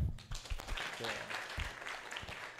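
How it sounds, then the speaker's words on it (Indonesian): Applause from a workshop audience mixed with chatter and voices, a dense burst of clapping that stays fairly steady across the short moment. "Boleh kasih tepuk tangan?"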